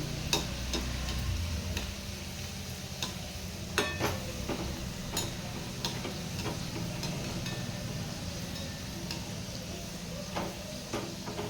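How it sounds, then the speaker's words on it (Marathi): Wheat flour modaks fry in hot oil with a steady sizzle and bubbling, punctuated by light clicks and taps of a spoon turning them, close and continuous without talk. "आणि व्यवस्थित आपल्याला हे मोदक तळून घ्यायचे सगळ्या बाजूंनी"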